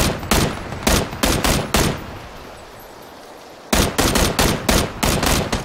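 Gunfire in PUBG, a battle royale video game, loud rapid bursts of shots cracking in quick succession, pausing for about two seconds, then resuming in another dense volley.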